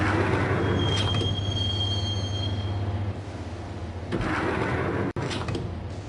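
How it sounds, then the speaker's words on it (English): Subway train ride in the video game Max Payne, with steady loud rumble of wheels on rails, metallic squealing in the first seconds, and a brief drop and sharp clack near the end, no voices. "the train doors had already shut behind me, and I was in for the ride"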